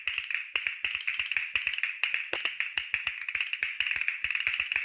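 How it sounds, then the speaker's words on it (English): Rapid, crisp clicking of castanets in quick rhythmic patterns, steady and close, with no voices. "Castanets."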